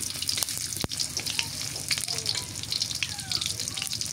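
Onions fry in hot oil in a pan for an ash gourd curry, a bright crackling sizzle with popping spatters and a brief clatter, close and continuous.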